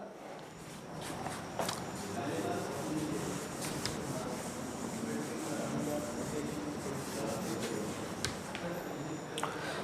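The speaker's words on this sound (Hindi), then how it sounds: "अब हम इसके मोल फाइंड आउट करने, थोड़ा सा रब करना पड़ेगा" Steady rubbing of a board being erased during a chemistry class, a continuous close scrubbing noise with light knocks and no talking.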